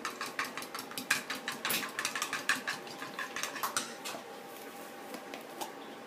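Quick, rhythmic clinks of a utensil beating eggs and salt in a bowl, fairly faint and close, repeating in a steady pattern.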